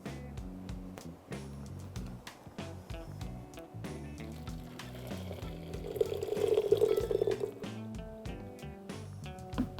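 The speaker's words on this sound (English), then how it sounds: "as soon as I poured the water on top, they just absolutely just exploded open" Hot water poured onto Moonlight White tea pearls gives a continuous splashing, trickling pour that swells to a louder gush midway, close and steady with no talk.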